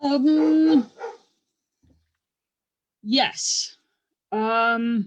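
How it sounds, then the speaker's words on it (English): A pet dog lets out a few loud, close barks and yips in separate bursts with pauses between them, while someone speaks briefly among them. "I don't know if y'all can hear my vicious dog in the background"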